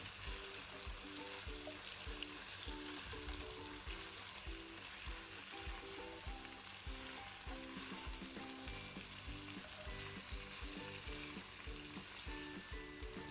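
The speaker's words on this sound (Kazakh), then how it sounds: "Оған пияз бен сарымсақты қосып, тағы да қызарғанша қуырамыз." Meat frying in a pan with onion and garlic gives a steady, dense sizzle that runs close and loud throughout, with occasional stirring scrapes and knocks.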